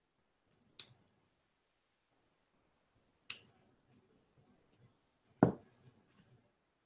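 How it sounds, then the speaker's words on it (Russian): Scissors snipping through lace during decoupage work on a box, a few sharp isolated clicks spaced several seconds apart, close and quiet. "Вот ножницы незаменимы"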